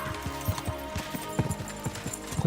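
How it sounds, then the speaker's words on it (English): A horse in Kingdom Come: Deliverance II, with quick rhythmic hoof clip-clops and light knocks, close and moderately loud, running steadily under a faint game music bed; subtle tapping of the rider's thighs urging it on. "There's an almost completely subtle tapping of my thighs on the horse now that I can hear."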